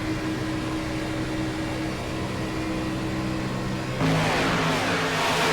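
Race car engines roaring at Daytona in a superspeedway racing game, a continuous loud steady drone at high speed that swells abruptly into a brighter, louder whoosh near the end.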